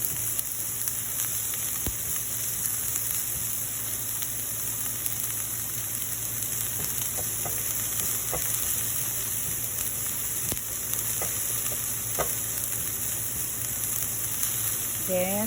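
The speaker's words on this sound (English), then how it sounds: "I'm going to put the onion first. And just saute it for a minute or 30 seconds" Chopped onion sizzles in a hot pan while being sautéed for breakfast cups, a steady, fairly quiet crackle running throughout with occasional small pops and faint clinks, no talking.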